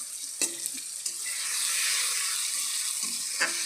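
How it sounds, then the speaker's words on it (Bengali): Salt, turmeric and chilli powder frying in oil for a bean dish, a close steady hiss of sizzling with a few sharp taps of a spatula against the pan, no voices. "এটাকে এবার ভালো করে ভাজে নেব।"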